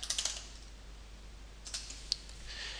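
Someone types a command on a computer keyboard: soft, close key clicks in short quick bursts at the start, a few taps midway and another run at the end, with quiet pauses between.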